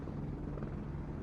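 A Boeing military attack helicopter call-signed Gunship, loaded with dummy Hellfire missiles and rocket pods, flies an airshow display at Farnborough, giving a steady, fairly faint rotor drone with a low throb that holds evenly throughout.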